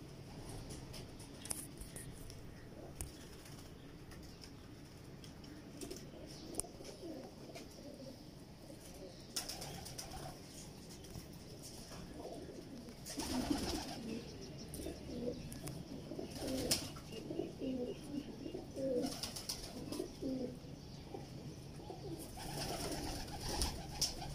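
Pigeons of the missay breed coo softly and repeatedly, with a few chirps and small flutters, all quiet and fairly close, with no talking.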